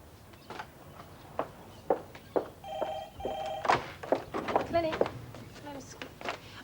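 A telephone rings indoors in two short trilling bursts, mixed with thumps, knocks and footsteps at moderate volume.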